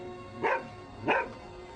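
Two distinct dog barks, a second or so apart, from a dog in the shark horror film Shark Night 3D, clear and moderately close with no talk over them.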